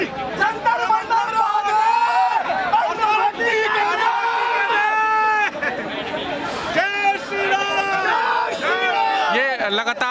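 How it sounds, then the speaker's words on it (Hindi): A crowd of hundreds of protesters at Jantar Mantar, gathered for a demonstration against reservations, fills the air with loud, continuous shouting and chanting voices that rise and fall over the whole stretch. "सैकड़ों की संख्या में यहाँ पर लोग मौजूद हैं और तमाम अच्छी खासी भीड़ यहाँ पर देखने को मिल रही है"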